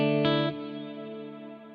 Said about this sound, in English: So this is a reverb that's specific to the Axe FX.